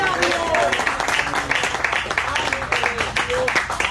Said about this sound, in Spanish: Fuerte el aplauso a Cristo en esta hora